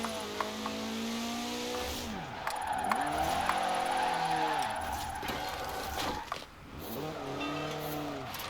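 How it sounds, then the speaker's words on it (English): A car in Forza Horizon 4 spins out with long, wailing tire squeals and a revving engine, skids repeatedly, then thuds into a tree, with the screech and engine sweeping up and down close by. "I've spun into a tree."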